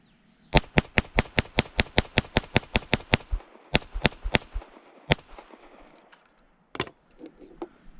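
A Kimber KDS9C 9mm pistol fires a fast string of about fifteen sharp close shots, then a few spaced shots and one last report, with faint clatter between.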